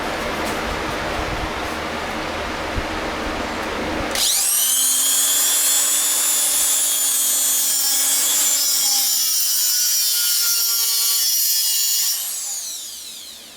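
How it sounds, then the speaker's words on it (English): An angle grinder cuts metal on a ballnut project, giving a harsh steady high-pitched whine for about eight seconds before spinning down. A rougher scraping noise comes before the cut. "So we'll finish that off with a grinder"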